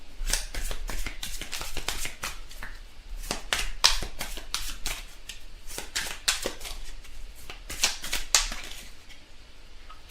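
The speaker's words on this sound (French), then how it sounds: "on tire une carte du tarot romantique, une carte conseil pour l'amour" Tarot cards being shuffled and handled for a romance reading, a steady run of crisp, close riffling snaps and flicks in quick irregular bursts, with no talk over them.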